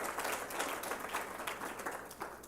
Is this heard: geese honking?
no